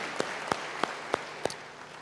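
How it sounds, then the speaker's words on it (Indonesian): A few distinct, evenly spaced claps ring out over a quiet background in a church gathering, about five single hand claps in a steady rhythm. "Beri tepuk tangan yang meriah bagi dia."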